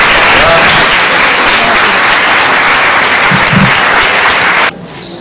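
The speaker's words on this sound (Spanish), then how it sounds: "pido un aplauso para ella." Loud, dense crowd applause for the Minister of Education at a school inauguration, sustained and close for nearly five seconds before cutting off abruptly.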